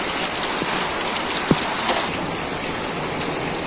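Heavy rain falling after a long wait, a dense continuous patter of drops on surfaces with a few louder nearby splashes standing out, no one speaking.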